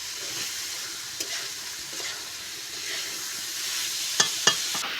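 Banana flower curry sautéed and stirred in a pan, a steady soft sizzle with a few sharp scrapes of the spoon near the end.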